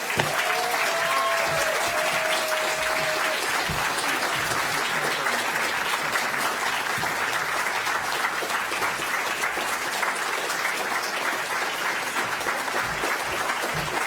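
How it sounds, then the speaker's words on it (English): Audience applause for Senator Bernie Sanders at a live event on global wealth inequality, a sustained, even roar of many hands clapping at moderate distance, with a brief faint tone near the start. "Another round of applause for Senator Bernie Sanders."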